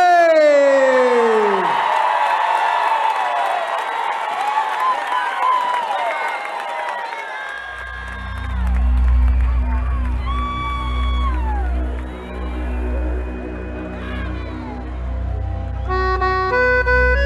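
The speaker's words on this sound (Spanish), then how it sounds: "El aplauso grande para recibir a los de Imaguaré" A crowd at the Festival Nacional del Chamamé cheers, whoops and claps to welcome Los de Imaguaré, a loud swelling roar heard alongside sustained music.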